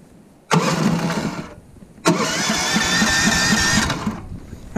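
A Snowdog tracked snow vehicle's small engine cranks briefly and falls silent, then catches on a second pull and runs loud and steady before cutting back, all close up with no talking.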